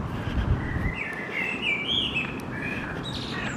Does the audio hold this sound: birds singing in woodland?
yes